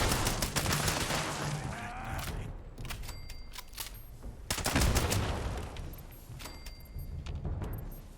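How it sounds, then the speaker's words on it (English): Gunfire in a Fallout 76 firefight crackles in rapid bursts, with sharp volleys and some sustained automatic fire punctuated by brief pauses and metallic ringing. "A little bit of a firefight here"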